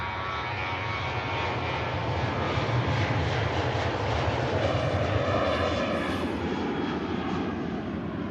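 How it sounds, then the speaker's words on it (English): A Ryanair Boeing 737 departing Manchester Airport produces a loud, sustained jet engine roar that swells slightly then holds steady, heard with no talk. "the first departure for us is a Ryanair"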